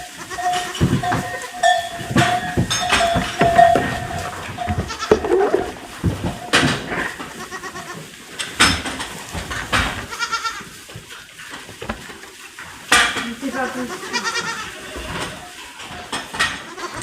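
Young goats bleat repeatedly, high and close, with overlapping cries and some rustling between calls.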